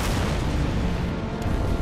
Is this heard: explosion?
yes